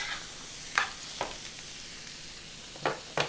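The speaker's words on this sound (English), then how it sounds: "I'm gonna let this just kind of toss around in the onion mixture." Butternut squash sizzles softly in a pan of onion mixture, with a steady frying hiss broken by a few sharp scrapes and taps as it is tossed; no voices.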